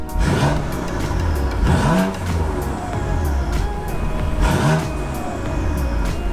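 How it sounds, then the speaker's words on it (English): A BMW M4 with the exhaust flap open, in its louder mode after a JB4 install, rumbles and revs in several rising pulses, steady and fairly close throughout. "As you can hear, exhaust is much louder"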